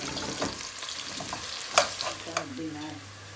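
Onions frying in a pan for a mutton yakhni pilau hiss and crackle up close, broken by quick scraping stirs and a sharper clatter midway before the sizzle eases off at the end.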